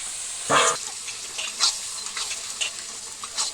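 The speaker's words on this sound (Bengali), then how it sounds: "ভালো করে নাড়িয়ে নিলাম।" Pumpkin curry with turmeric is stirred in a hot pan, producing close, intermittent scraping and shuffling over a soft background sizzle, with several distinct stirring strokes.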